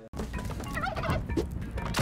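A turkey gobbles in Spelunky 2, a loud warbling burst repeating over two seconds amid busy game sounds.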